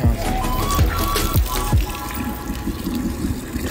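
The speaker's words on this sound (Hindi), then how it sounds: "पानी ले लेते हैं यहाँ से." Public drinking fountain in Italy, water running and splashing steadily close by, loud and continuous, with a few low gurgling knocks early on and no talking.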